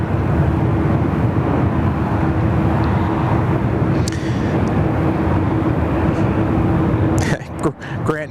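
Qantas 840 jet taking off at Sydney Airport, a loud, steady broadband engine roar that holds for several seconds before cutting off near the end, with a talking voice mixed over it.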